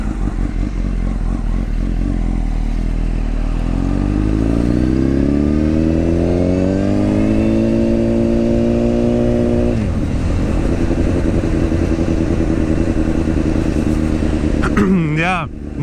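A motorcycle engine runs steadily on the road, rising in pitch as it accelerates through a gear and settling into a cruising drone, with voices talking over the ride.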